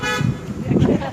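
A car horn honks at a street rally outside a senator's office on Valentine's Day, a short toot rising twice over steady traffic and crowd noise.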